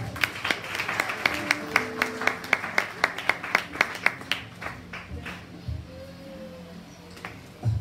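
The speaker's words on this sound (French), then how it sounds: "Sous vos acclamations, s'il vous plaît." Church congregation clapping after a choir is introduced, a run of sharp rhythmic claps that thins out partway through, with a brief low tone near the end.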